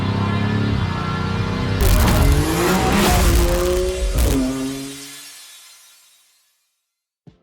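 A BMW M5 roars hard with squealing, skidding tires for several seconds, a loud close engine sweep that winds down and fades away to silence.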